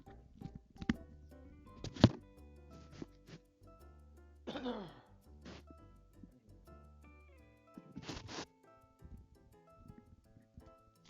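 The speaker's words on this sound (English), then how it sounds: "Sorry for the loud cough there, guys." A single loud cough bursts out during a gaming stream, sharp and close, followed by a few softer throat noises and small thumps over quiet background game sounds.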